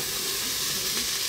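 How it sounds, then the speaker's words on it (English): Meat searing in a hot pan for spaghetti bolognese gives a steady, loud, close sizzle and hiss that runs unbroken throughout, with no voices. "At the moment I'll put it on to sear"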